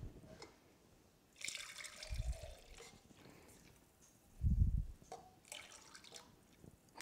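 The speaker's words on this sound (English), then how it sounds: "just pour in some hot water." Hot water poured in short pours, soft liquid splashes and trickles with two brief low gurgling bursts, quiet and close, with faint rustling between.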